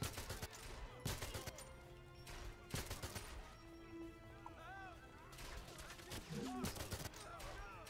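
Gunfire in the video game 007 Legends comes in several sharp bursts and single shots spread across the clip, with some mechanical game effects between them under a soft game soundtrack.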